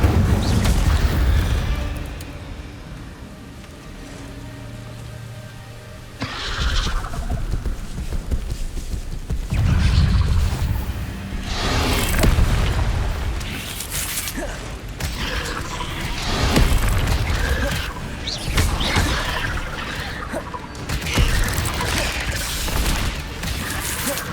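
Incendio fire spell blasts in the video game Hogwarts Legacy erupt among other spell effects during combat, with loud repeated booms and crackling bursts over a rumbling, busy battle soundscape.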